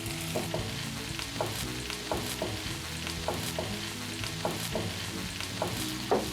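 Tomatoes sizzle in a pot in a Zambian home kitchen while being stirred for a kapenta dish, a steady frying hiss broken by regular scraping strokes of the spoon roughly every half second, close and clear.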